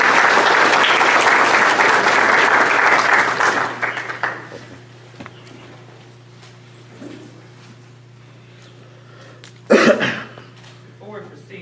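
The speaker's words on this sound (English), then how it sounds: "let's give everybody a round of applause." Loud applause from the crowd at a 2017 Edgecombe County candidates forum fills the first few seconds, then fades into a quiet hall with scattered coughs and throat clearing.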